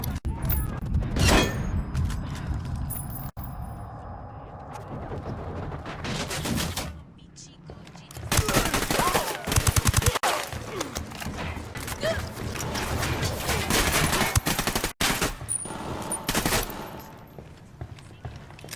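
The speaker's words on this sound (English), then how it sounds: "Opening fire." Gunfire in Ghost Recon Wildlands comes in loud bursts of automatic shots and scattered single rounds, with mechanical clatter in between, and voices shout over the noise.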